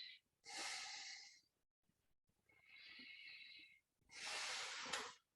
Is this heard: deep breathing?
yes